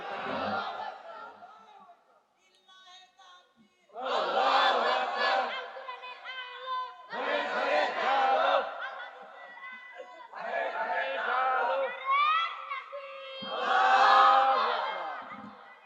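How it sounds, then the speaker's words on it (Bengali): A large crowd at an Islamic sermon shouts the takbir in unison, with several loud, ringing collective chants separated by short gaps. A lone voice leads between the crowd's shouts. "তাকবীর দেন"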